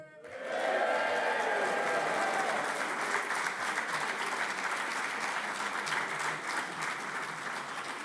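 A graduation crowd cheers and applauds for the graduating class, a sustained wash of clapping and cheering that starts abruptly after a brief pause and holds steady and loud to the end.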